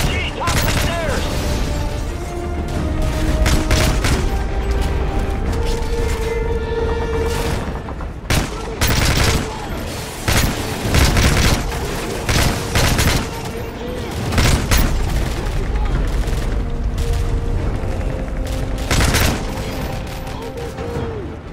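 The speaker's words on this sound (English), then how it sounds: "Frost, Prince, lay down cover fire!" Dense, continuous gunfire and booming explosions in the Call of Duty: Modern Warfare 3 video game, with rapid bursts and heavy thuds filling the whole stretch, while shouted voices cut through the battle.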